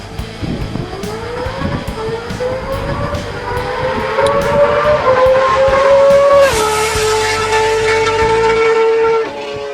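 A 1970s Honda CBX1000 motorcycle's inline six-cylinder engine runs loud and close, its whining note climbing steadily as it revs, then holding high before easing slightly, with no talking.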